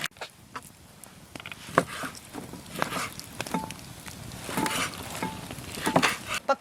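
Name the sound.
meat frying in a pan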